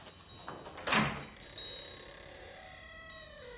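A door moves in a horror film scene, giving a short, fairly loud knock-like burst near the start, followed by softer rattles and thin tonal ringing against a quiet background, with no talk.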